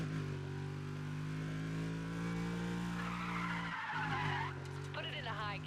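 A car in Need for Speed: Undercover slides through a turn, its engine droning steadily while tires squeal and skid in rising screeches toward the end, with a voice talking over it.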